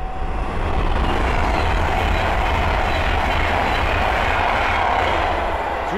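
A Class 390 express train roars past on the West Coast Main Line at Linslade, loud and close, its wheels rumbling with faint clickety-clack over a sustained rushing noise that swells after the first second and stays steady.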